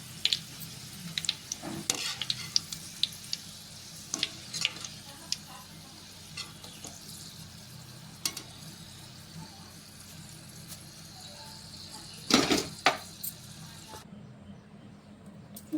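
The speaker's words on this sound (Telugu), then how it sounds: "ఇది కూడా మంచిగా ఫ్రై అయిపోయింది నూనెలా." Mutton kima frying in oil in a pan for Telangana-style biryani, a soft steady sizzle with occasional stirring scrapes and clinks, one louder burst of clatter near the end, heard close and without speech.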